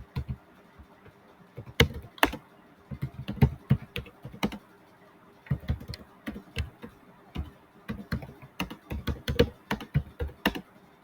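Typing on a computer keyboard comes in quick bursts of crisp key clicks separated by short pauses, close and fairly quiet.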